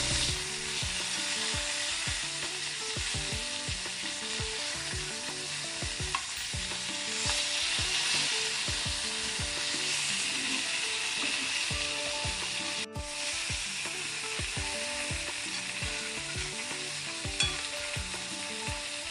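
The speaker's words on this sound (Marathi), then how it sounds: "आता दुसऱ्या बाजूने पण तसंच तळून घेऊया एकदम व्यवस्थित" Long pieces of narba fish, a pomfret-like fish, fry in a pan with a constant loud sizzle, while rhythmic scraping and tapping strokes come from turning and pressing the pieces throughout.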